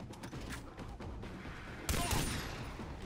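Gunfire in the video game Far Cry 3 comes as a quiet rattle of shots, then a sharper, louder burst near the midpoint that tails off, under a low game-audio bed.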